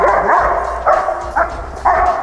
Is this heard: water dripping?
no